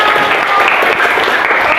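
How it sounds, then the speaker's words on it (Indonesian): A classroom of students applauds during a teaching lesson, a short, loud, even burst of many hands clapping close by with no pauses. "Tepuk tangan."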